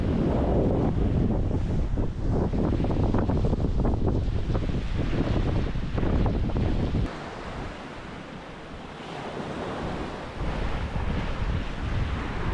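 Sea waves and strong wind sheltering behind an island, a loud roaring rush with heavy wind buffeting the microphone, easing briefly before swelling again.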